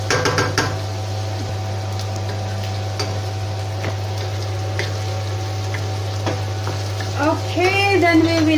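Garlic and onion hit the hot oil of a paella pan for a meat paella, a steady close sizzle and crackle running throughout beneath a constant low hum, with light stirring clinks toward the end.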